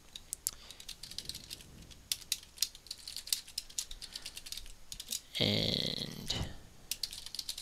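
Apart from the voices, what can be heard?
typing code on a computer keyboard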